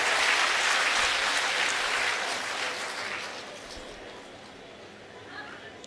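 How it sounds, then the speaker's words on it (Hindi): A large audience at a Hindu satsang gathering in Dehradun breaks into loud, dense clapping that gradually fades away, with faint voices murmuring underneath as it dies down. "ताली।"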